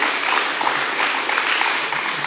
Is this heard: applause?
yes